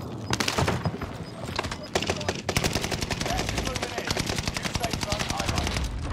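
Sustained automatic gunfire in Call of Duty Warzone Resurgence, a fast steady stream of shots over several seconds with a brief opening burst, loud and close, with faint game sounds behind.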